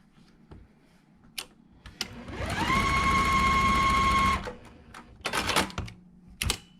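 Sewing machine stitching quilt pieces along the edge of a white triangle, one steady whirring run of about two seconds rising to a constant pitch, with light clicks and handling noises before and after.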